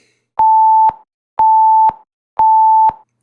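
Warning beeps from an INAV flight controller's beeper come as three even, loud tone bursts separated by short silences, sharp and electronic with no talking.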